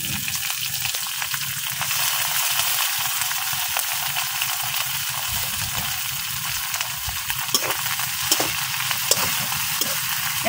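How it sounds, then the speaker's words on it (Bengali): Prawns fry in a pan with onions in a steady, close sizzle that runs throughout, with a few sharper spatters near the end. "চিংড়ি মাছগুলা একটু ভাজা লাল করে নিলাম।"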